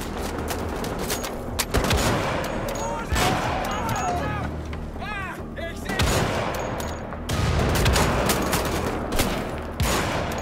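Rapid gunfire in the Wolfenstein The Old Blood video game, bursts of shots over a busy battle mix of effects and voices, with people talking throughout.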